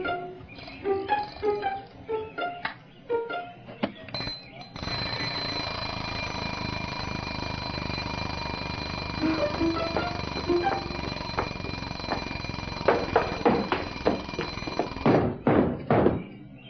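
An alarm clock rings in a steady, shrill, unbroken tone for about ten seconds, preceded by scattered knocks and clatter and ending in a few sharp thumps.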